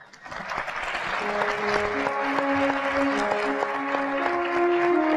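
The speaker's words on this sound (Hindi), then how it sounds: "ज्यादा सी तालियां बजाओ यार, ये क्या है?" A studio audience on a morning television show applauds in a steady, moderate wash of clapping, while a speaker's voice carries on over it.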